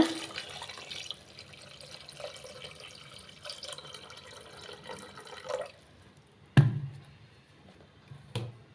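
Water trickles and splashes onto parboiled rice in a pot for several seconds, then a couple of sharp knocks ring out near at hand, quiet overall.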